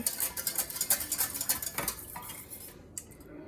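A utensil clinks rapidly against a bowl while wing sauce is stirred, a close run of bright metallic taps and scrapes that slows and fades out near the end.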